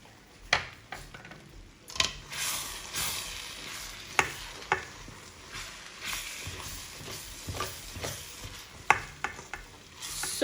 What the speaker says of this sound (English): I'll quickly add my chopped green pepper and the remaining green onion. I will stir and burn down immediately.